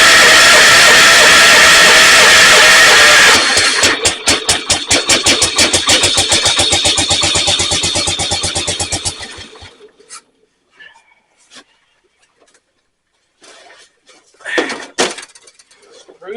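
A cold Jacobsen snowblower engine fires and runs loudly with a fast, pulsing mechanical beat, then sputters and dies away, leaving near silence broken by a few faint knocks and short noises.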